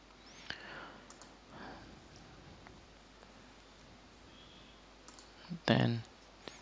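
A computer mouse clicks, a few faint sparse clicks early on and then a sharper, louder burst of clicking near the end in a quiet room.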